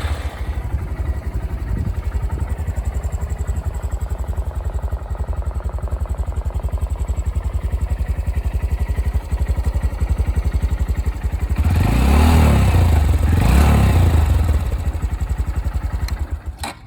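A 2015 Honda Grom motorcycle with only about 307 miles on it idles steadily up close with a low, chugging beat, then revs twice in quick succession before settling back to idle.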